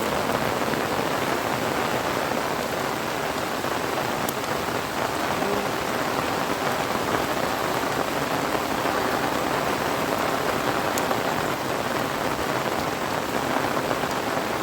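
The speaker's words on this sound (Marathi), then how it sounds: "जोरात चालू झाला रे पाऊस." Heavy first-monsoon rain pours down in the Yeoor forest, a loud, dense, unbroken hiss of drops beating on leaves and surfaces that holds steady throughout, with no voices.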